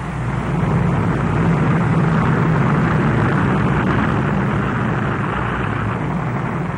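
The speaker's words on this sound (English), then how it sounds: "Giant B-36 bombers pass overhead." Massed military aircraft, C-82 Flying Boxcars and giant B-36 bombers, fly over the capital during a 1949 inaugural air parade, producing a loud, continuous, droning engine roar with no speech.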